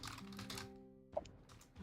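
Quiet keyboard typing, a few soft clicks in short bursts with a gap in the middle, close by.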